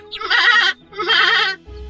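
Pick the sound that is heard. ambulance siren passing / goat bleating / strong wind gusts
goat bleating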